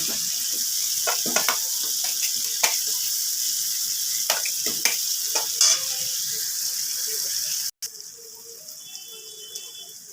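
Potatoes hiss and crackle steadily as they go into a hot pan for a cauliflower kosha, with a few sharp clatters of stirring over the continuous sizzle, which suddenly cuts out and drops quieter near the end.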